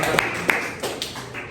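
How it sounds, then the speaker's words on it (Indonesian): Scattered claps from a classroom of students for group 1, a few sharp taps spread over a second and a half rather than full sustained applause. "beri tepuk tangan untuk kelompok 1"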